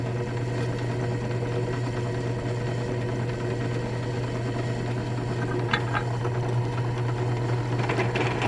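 A drill bores a 1/16 inch touch hole through the thick breech wall of an Indian musket for a Paget carbine build, a steady close whirring hum that runs unbroken, with a few faint clicks near the end.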